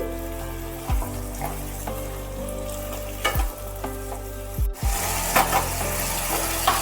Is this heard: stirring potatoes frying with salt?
yes